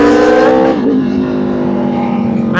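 An Aprilia RSV4 1100 Factory motorcycle pulling away, its engine loud and close with a steady, harmonic drone that dips as it shifts, then holds a low tone.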